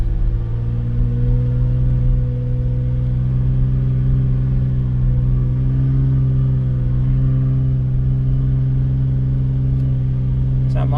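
A Jeep XJ's engine drones steadily at close range, straining and bogging in soft beach sand, holding a low, sustained note with slight pitch wavering and no clear rev spikes throughout.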